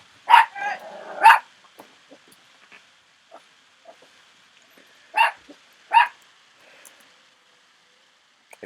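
Dogs bark nearby in sharp, loud bursts, a quick pair followed by another pair a few seconds later, with quiet stretches between.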